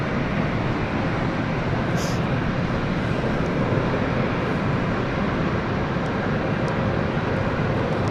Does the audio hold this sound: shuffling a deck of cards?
no